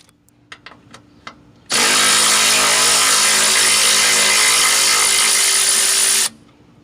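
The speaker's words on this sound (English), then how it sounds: "A 10mm socket removes this bolt" A power tool fitted with a 10mm socket removes a bolt near the ABS lines on a 2002-2005 Mercury Mountaineer, whirring loudly and steadily for several seconds after a few light metallic clicks, then stopping abruptly.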